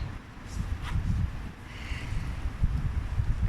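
Wind blows outdoors in low, gusty rumbles against the microphone, rising and falling throughout, with a few faint rustles and light ticks in between.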